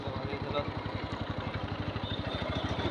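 A motorcycle engine thumping in a fast steady pulse while riding on a rough village road after crossing the Padma Bridge, moderately close and fairly quiet.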